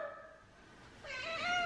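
A female cat meows twice indoors, a short high cry followed after a pause by a longer, rising and falling meow, both close and clear with no talk over them.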